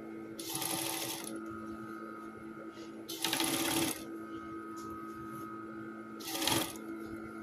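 A sewing machine topstitches a folded dress seam in three bursts of rapid, steady needle chatter separated by pauses, close up over a constant low electrical hum.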